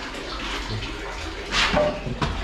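Water gushes out of a Grundfos pump setup once its valve is opened, a steady rushing flow that swells into a louder surge about midway through the short stretch.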